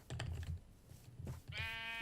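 A Minecraft sheep bleats in a short, wavering call near the end, preceded by game footsteps and soft clicks with no voice over it.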